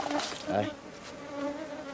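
A strong honeybee colony buzzes steadily at the hive during a longan-blossom honey flow, a dense close hum with individual bees whining past. Someone says a word briefly over the buzzing.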